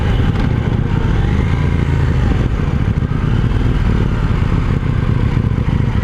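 A KTM 790 Duke motorcycle rides along with its loud, gritty engine note and wind rush up close, a dense continuous roar with slight rhythmic clatter throughout.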